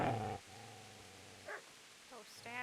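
Dog growls in the medieval role-playing game Kingdom Come: Deliverance: several short rough growls and snarls in separate bursts, set against a low steady game ambience, with a player's voice talking briefly at the start.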